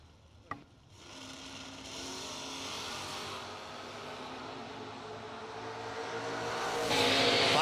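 Drag racing cars accelerating at a bracket race, a roar building steadily and growing louder toward the end after a brief sharp click at the start.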